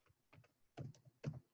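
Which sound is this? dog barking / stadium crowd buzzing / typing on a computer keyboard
typing on a computer keyboard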